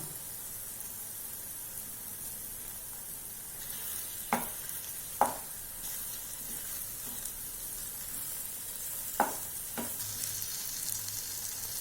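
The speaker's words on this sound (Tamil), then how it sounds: "இது நடுவுலையே தான் இதை கிளறி விடணும் இன்னும் கொஞ்சம் நேரம் வேகட்டும்" Spicy egg masala with onions frying in a pan: a steady, fairly quiet sizzle runs throughout, broken by four sharp clinks of a spatula against the pan as the mixture is stirred, with no voices.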